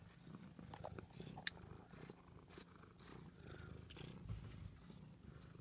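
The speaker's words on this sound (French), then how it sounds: "Ah, le chat il ronronne, hein. Je sais pas si vous l'entendez." A domestic cat purring close by in a house, a steady low rumbling drone that carries on without a break and stays soft and even throughout.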